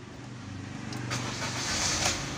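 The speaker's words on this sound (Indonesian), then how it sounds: "mesin menyala." A manual car's engine starts with a short crank and catches into a steady, moderately loud idle, heard close by with no talking.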